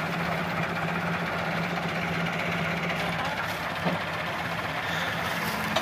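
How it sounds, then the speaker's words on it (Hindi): A new Massey Ferguson 385 tractor engine idles steadily nearby, a continuous low rumble with a constant hum throughout. "बिल्कुल नवा ट्रैक्टर जी है।"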